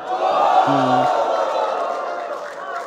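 A rap battle crowd cheers and hypes up the performers, a loud sustained roar of many voices with shouts and whoops, fading slightly toward the end.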